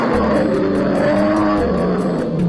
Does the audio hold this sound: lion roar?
yes